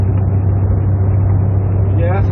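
A truck cruises on a highway at a steady 80 to 85 km/h, its engine a loud, constant low drone filling the cab, with someone talking over it.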